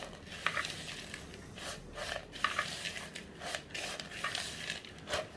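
Buttery biscuit base for a white chocolate and raspberry cheesecake being mixed in a bowl, with soft crumbly scraping and stirring strokes in an irregular rhythm, close and quiet, no voices.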